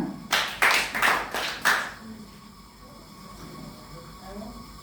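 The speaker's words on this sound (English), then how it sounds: "let's clap for her" Audience at a budgeting talk gives a brief burst of about five loud, rhythmic claps in unison up close, then falls to quiet room noise.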